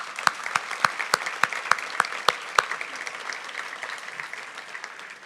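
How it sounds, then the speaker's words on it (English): An audience at a 2016 opening session bursts into applause, a dense wash of clapping led by a few sharp, loud individual claps near the front that gradually settles into steady, softer applause. "Please give them a round of applause."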